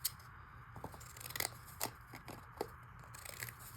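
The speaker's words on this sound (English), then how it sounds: "the zigzag scissors if it will cut them" Zigzag scissors snip through an old fabric sticker in a series of small crisp cuts with rustling between them, close and fairly quiet.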